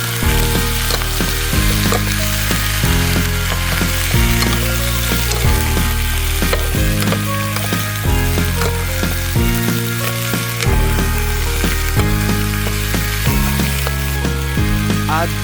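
Sliced pork pata frying with onion in a pan, giving a steady, loud, continuous sizzle that lasts throughout with no talking.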